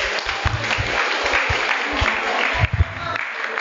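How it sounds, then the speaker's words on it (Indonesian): Audience applause breaks out at an Islamic study session for teenagers, a steady wash of clapping hands lasting several seconds, with a few louder bumps and some voices mixed in underneath. "Aplaus lagi."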